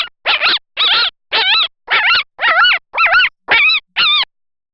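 A fox gives nine sharp, evenly spaced yelping barks, each a short, strained, wavering cry, recorded fairly close and loud with silence between calls.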